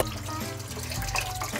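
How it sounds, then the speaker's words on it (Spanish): A litre of milk pours into a cooking pot holding a cinnamon stick, a brief, steady liquid gush and splash heard close up and alone. "vamos a poner nuestra varita aquí junto con nuestro litro de leche"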